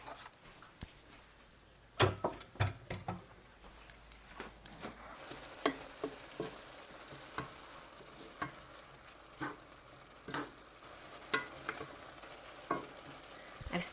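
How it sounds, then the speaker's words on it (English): Fried cabbage and sausage stir-fry in a pan over medium-high heat, a soft sizzle under frequent sharp scrapes and taps of a utensil stirring, close and fairly quiet. "I'm going to take this up to medium-high and stir fry for about 5 minutes."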